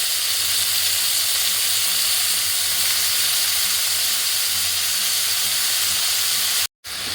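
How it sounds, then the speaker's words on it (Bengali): Bitter gourd and potato fry in oil with five-spice, dried red chillies and chopped onion, a loud, even hiss of sizzling that holds steady, then cuts out abruptly for a moment near the end. "আর এখানে হচ্ছে উচ্ছে আলু ভাজা করব"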